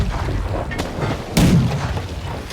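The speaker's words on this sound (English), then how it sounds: "Now for cannons, you can fire them pretty quick." Ship cannons fire in the Sail VR video game: two sharp booming shots less than a second apart, the second heavier and louder, over a low background rumble.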